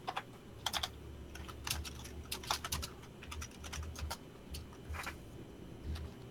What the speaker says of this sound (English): Why is everybody typing?